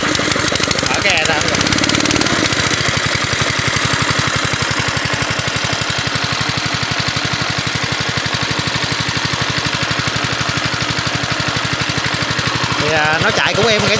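A Yokohama 5.5hp gasoline engine runs steadily close by, a loud fast chugging putter with a rattling mechanical hum, voices briefly heard over it.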